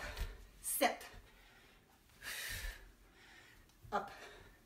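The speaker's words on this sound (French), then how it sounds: "Commence à être essoufflé." Heavy, sharp breaths puff out during a squat workout, with a few loud exhalations spaced apart against faint background noise and quiet voice sounds in between.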